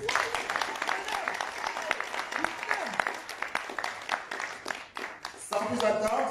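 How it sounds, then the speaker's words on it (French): Audience applause at a slam poetry night, dense steady clapping from a crowd throughout, with voices and cheering rising near the end. "Est-ce qu'on peut applaudir très fort pour l'artiste?"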